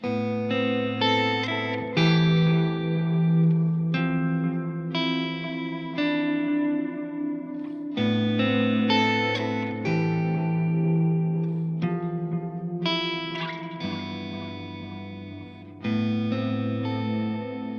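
Electric guitar chords strummed and left ringing, soaked in echo and chorus effects, with shimmering sustained voicings changing every few seconds.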